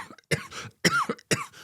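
Three sharp, separate coughs from one person, close and fairly loud, with short pauses between them and no talk.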